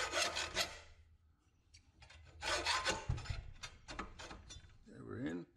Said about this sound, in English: If you look while you're cutting, you'll see the grooves from the ring mandrel showing through the cut.